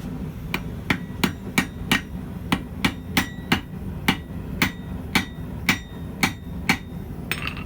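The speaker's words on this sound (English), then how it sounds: "After hammering here, that tomahawk head is going nowhere." Hammer blows on a forged railroad spike tomahawk head being set onto an unwelded steel handle, about fifteen sharp metallic strikes in a steady rhythm, close and loud with no talking.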